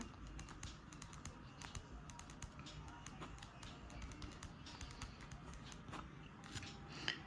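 Faint keyboard typing as a name is entered into a Bihar survey form, with rapid clusters of light key taps in irregular bursts over a soft background murmur.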